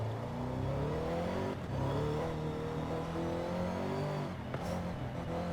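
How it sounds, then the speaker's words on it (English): A Lexus RC F Track Edition race car in Forza Horizon 5 revs hard, its engine and intake note rising and dropping through gear shifts, loud and continuous with no talk. "This has a really nice intake noise, doesn't it?"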